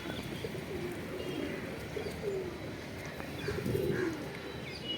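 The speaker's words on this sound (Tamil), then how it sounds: "இது பட்டை புறா" A batta pigeon, a domestic fancy breed, coos nearby in soft repeated throaty murmurs, with a louder rolling coo near the end and faint chirps from other birds around.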